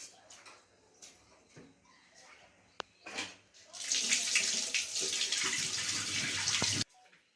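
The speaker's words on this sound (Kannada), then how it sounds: "ಚೆನ್ನಾಗಿ ಅಕ್ಕಿ ತೊಳ್ಕೊಂಬಿಡೋಣ." Tap water runs steadily in a kitchen sink as rice is washed for soybean rice, a loud continuous gush after a few faint clinks and handling sounds, then cutting off abruptly.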